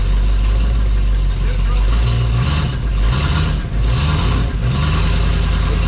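A 1972 Dodge Challenger engine with automatic transmission runs loud and close in gear with the wheels off the ground and spinning, a heavy rumble that swells and dips a few times as the revs shift.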